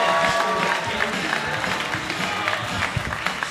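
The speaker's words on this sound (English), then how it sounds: "Make some noise for Jordan Robinson" A comedy club audience applauds and cheers as a comedian is introduced, dense clapping and crowd noise close and steady, with a voice briefly audible over it.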